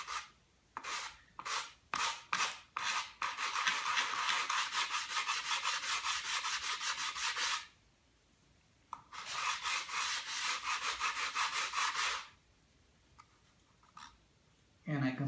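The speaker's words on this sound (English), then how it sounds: "I'm gonna start to sand until I see it kind of start to disappear." Sandpaper rubs back and forth by hand over wood marked with black marker, starting with a few short separate strokes and then settling into long, steady, fast scrubbing runs broken by a brief pause.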